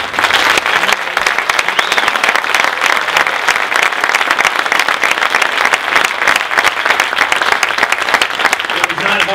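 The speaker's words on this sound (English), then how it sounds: "Could all of you please stand, wait for applause, and thank you for attending tonight." A large audience at a car reveal event for the 2020 Corvette Stingray Convertible at Kennedy Space Center applauds astronauts, dense loud clapping sustained throughout.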